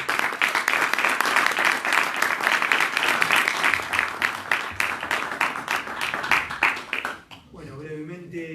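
Lecture audience breaks into sustained applause, dense and steady for about seven seconds before it tapers off and a voice begins speaking over a quieter room.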